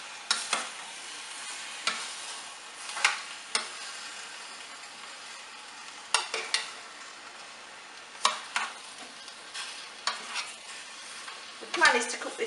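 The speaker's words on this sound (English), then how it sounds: "we're going to give it a good stir in." Chickpeas stirred into a butternut squash curry in a pan, a spoon scraping and knocking in irregular strokes over a soft background sizzle, close and fairly loud, with no talking.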